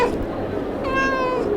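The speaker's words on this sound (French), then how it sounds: "Coucou Fifi, ça va mon chat?" A pet cat meows twice indoors, a short call and then a longer, clear, rising meow, close and loud with no talk over it.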